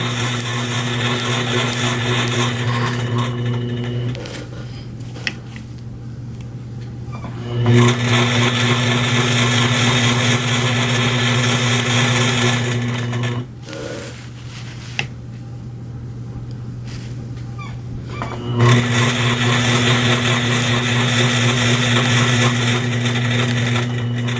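A sewing machine runs free-motion quilting with a ruler, its steady mechanical hum and rapid needle chatter coming in long loud bursts separated by short pauses.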